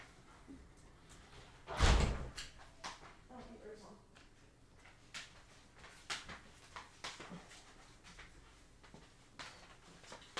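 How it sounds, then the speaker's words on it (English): A room door pushed shut indoors, one loud close thud near the start, followed by quieter rustling and handling sounds while a person talks. "I'm just going to close the door"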